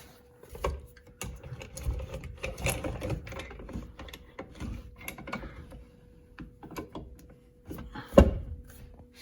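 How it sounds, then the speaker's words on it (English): A Harbor Freight paint shaker, lag-bolted to a wall, rattles and clatters in irregular mechanical bursts, close by, ending in a louder knock. "Just installed the Harbor Freight paint shaker."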